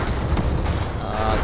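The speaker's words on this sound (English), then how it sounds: "Things are exploding." Continuous rumbling booms and bursts from exploding steampunk airship cannons in the strategy game Airships: Conquer the Skies, loud and dense throughout without a break.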